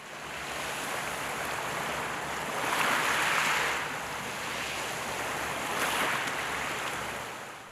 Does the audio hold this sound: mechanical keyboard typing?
no